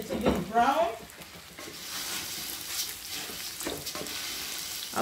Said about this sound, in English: I'll be putting in my rice, and then I have to fry it for about 15 minutes